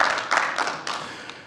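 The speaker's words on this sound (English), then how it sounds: "let's have a round of applause for that" Conference audience applause, a brief scattered patter of hand claps that fades out quickly over about a second and a half, with no speech.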